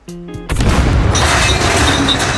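Gunfire bursts in the survival video game SCUM, a short tonal sound followed by a loud, sustained booming barrage of shots that fills the rest of the moment, close and heavy with no talk over it.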